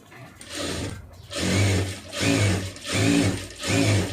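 A sewing machine runs a lining seam on a blouse in four quick bursts, each a steady motor whir with short pauses between as the fabric is folded and fed, close by with no talk.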